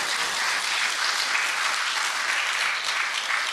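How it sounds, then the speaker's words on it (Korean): A Korean church congregation in Vancouver applauds during a Sunday worship service, with thick, continuous clapping from many hands holding a full, steady level throughout and no talk over it. "우리 한번 하나님 앞에 영광의 박수 한번 합시다."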